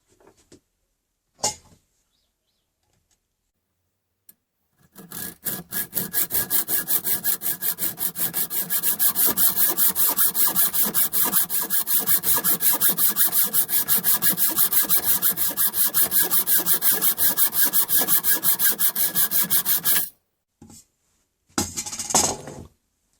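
A die cuts thread on a steel bar clamped in a vise, producing a loud, sustained grinding rasp for about fifteen seconds, framed by brief metallic clicks and clanks before and after.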